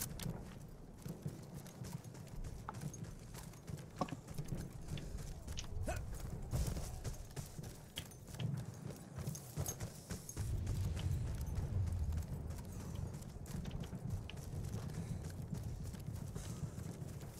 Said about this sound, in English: there's a horse up here